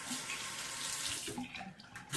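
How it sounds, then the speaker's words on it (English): Tap water runs steadily from a faucet into a cup at a bathroom sink during a straight-razor shave, a close, continuous splashing rush that thins and shifts in pitch toward the end as the cup fills. "I gotta fill the cup up back with water"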